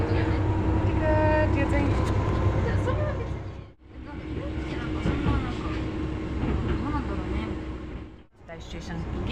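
A passenger train carrying riders away from a station gives off a steady, loud rumble with rattling carriage noise and brief dips, while a voice speaks briefly nearby.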